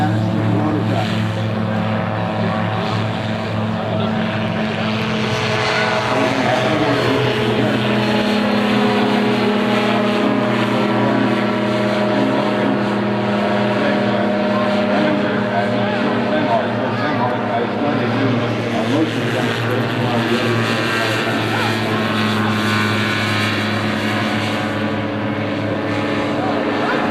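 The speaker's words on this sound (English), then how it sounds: "Not a helicopter. It's an Autogyro." An autogyro at a Rotorfest fly-in, its propeller engine droning steadily for a long stretch with slowly shifting pitch as it passes, loud and continuous under a crowd and commentary.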